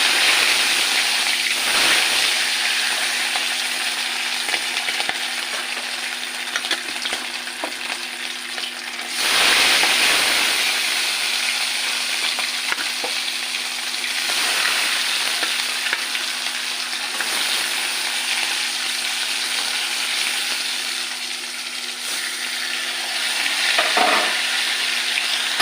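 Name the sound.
hilsa fish frying lightly in hot oil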